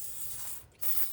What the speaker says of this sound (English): I'm gonna just spray it all.